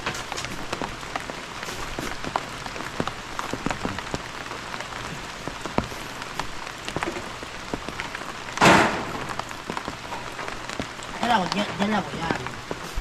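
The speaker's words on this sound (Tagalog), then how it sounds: "Dumaan lang si ulan." Light rain patters steadily on a surface at a building site where metal roofing sheets are being installed, with scattered taps and faint voices over the constant hiss.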